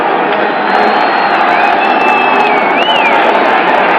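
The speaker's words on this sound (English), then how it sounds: "this tremendous emotional crowd here at Shea Stadium" A huge emotional crowd roaring steadily at Shea Stadium during a 1981 Green Bay Packers versus New York Jets football game, with a continuous dense cheer and a faint whistle rising above it.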